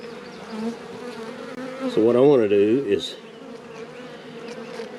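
Worker honey bees buzz in an open hive as a steady drone. Louder, wavering buzzing swells briefly near one pass, and someone speaks over it.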